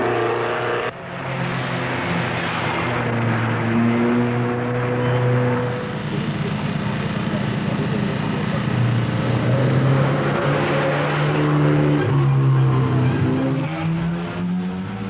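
Works rally car at the 1972 Monte-Carlo Rally pulling away, engine droning and rising through gears, loud and close, sustained for several seconds with a steady rumble beneath.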